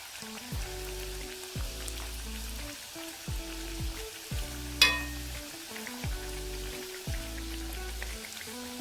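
Samosas fry in hot oil, giving a soft, continuous crackling sizzle that runs throughout beneath louder background music.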